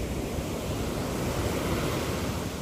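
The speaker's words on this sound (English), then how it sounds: "Don't you just love the sound of waves?" Ocean surf washes onto the shore at Condado, Puerto Rico, as a steady, full roar of breaking waves with no voices.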